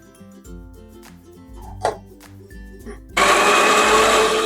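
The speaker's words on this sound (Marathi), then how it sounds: "टमाट्याचं पेस्ट बारीक केले ना" A mixer grinder blends tomatoes into a paste for a Konkani-style bangda (mackerel) fish curry. Light clinks and handling come first, then the motor kicks in with a loud, steady, close whirring roar.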